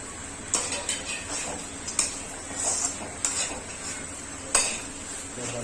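Adori badi and potatoes fry in a pan with masala while being stirred by hand, metal utensil scrapes and clinks recurring every second or so over a low sizzle.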